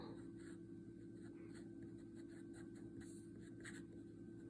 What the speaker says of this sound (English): on copy paper again, I'm gonna just write